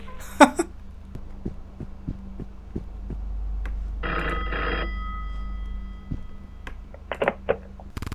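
A telephone rings in the horror game Egg Fried Rice, with a bright electronic ring burst over a quiet, low humming background and scattered soft clicks and thumps.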